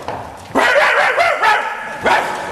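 A dog barks repeatedly at close range in a Romanian sitcom scene, several loud yapping barks in quick succession with a brief pause before a final bark.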